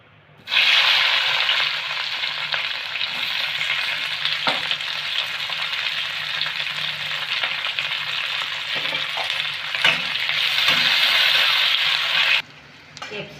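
Large cut pieces of capsicum and onion frying in hot oil, a loud, steady sizzle with occasional stirring scrapes that runs for over ten seconds before cutting off abruptly.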